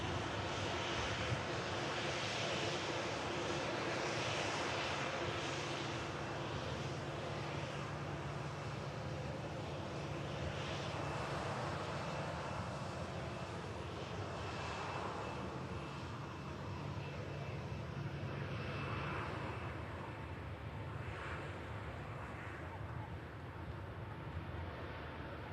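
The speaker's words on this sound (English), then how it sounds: "Off goes to Singapore, A350." An Airbus A350 departs Manchester Airport bound for Singapore; a steady, broad jet engine roar carries on throughout, heard from a distance and rising and falling only slightly.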